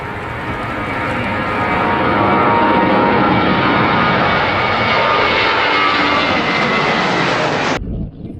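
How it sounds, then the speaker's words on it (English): A fixed-wing airplane comes in to land on the runway at Gibraltar, and its engine roar swells close and loud. The roar holds for several seconds and then cuts off abruptly. "There's a plane gonna land and we're right in the middle of the runway!"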